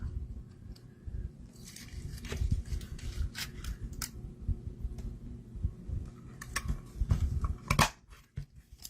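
Scissors snip through the stems of small flowers and leaves, a series of quiet close crisp cuts with soft rustling between them, and no talking.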